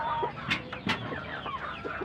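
Hens cluck in short, scattered calls close by, several birds overlapping against a low farmyard background.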